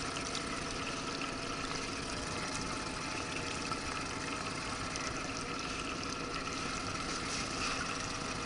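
A tiller-steered outboard motor on a fishing boat on the Amur river runs at a steady, moderate drone with watery churning, continuous and unbroken, no talk over it.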